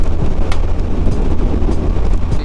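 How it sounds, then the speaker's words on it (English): Loud, buffeting wind roars across the microphone in continuous gusts while riding a Honda Rebel 500 motorcycle on a freeway, a heavy low rumble with no voices. "it is proving to be very windy"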